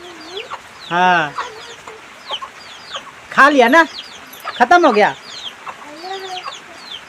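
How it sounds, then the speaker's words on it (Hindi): Small young chickens cluck and squawk nearby in short scattered bursts, some louder and sharper than others, with rain falling and a person speaking briefly in between. "हम लोग का मुर्गी छोटा छोटा अभी है, 1 2 3 ठो है।"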